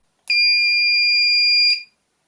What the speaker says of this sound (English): that sounds more like a digital beep than a horn